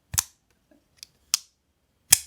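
Four sharp, bright metallic clicks spaced irregularly, a small Quietcarry Drift pocketknife blade snapping open against its stop pin, crisp and close with silence between.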